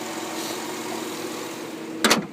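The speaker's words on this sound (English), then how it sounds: "The 8-cylinder motor." The 8-cylinder engine of a 2008 Chevrolet Avalanche LT idles with a steady, low hum. Near the end comes a brief louder knock or thump.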